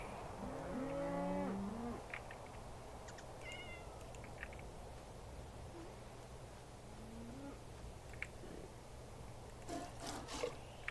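Blocky Minecraft cow lowing in a short series of moos early on, fairly close, over a steady hum of game ambience with scattered faint clicks and effects later, no talking.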